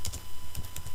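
Computer keyboard keys clack in a quick burst of about five close, crisp presses with no one talking.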